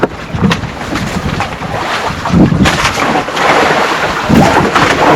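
Strong wind roars across open sea at night from a small fishing boat after rain has stopped. It is a loud, constant, gusting rush with low rumbling buffets against the microphone and no talk.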